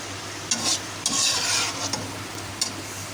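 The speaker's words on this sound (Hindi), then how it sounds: "अब हम इसको स्लो से हिलाएंगे ताकि हमारी चीज़ें ये सारी मिक्स हो जाए।" A chicken and macaroni mixture stirred slowly in a sizzling pan: a soft continuous fry hiss broken by several scraping strokes of a spoon against the pan, close and clear, with no voices.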